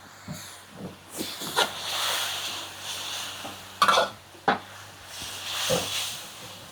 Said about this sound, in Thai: ใส่น้ำซุปลงไปปั๊บ